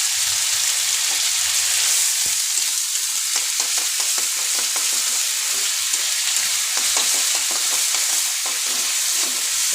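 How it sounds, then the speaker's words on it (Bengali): Ground raw taro paste, mixed with garlic paste, chili paste, mustard paste, sugar and salt, frying in a pan with a steady loud sizzle and repeated scraping stir strokes throughout. "আমি যে কাঁচা কচুটা বেটেছিলাম এটাকে একটু আজকে ভাজা ভাজা করে দিচ্ছি"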